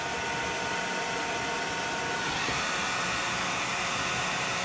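A heat gun blows hot air onto RV wallpaper to soften the adhesive, a loud, steady hiss without a break.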